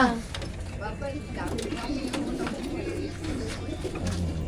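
Pigeons cooing in low, throaty repeated calls nearby, with voices and background activity mixed in.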